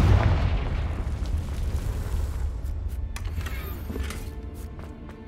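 A Confringo blasting spell goes off in Hogwarts Legacy with a loud, deep boom at the start, then a rumbling decay and scattered crackling debris that fade over several seconds.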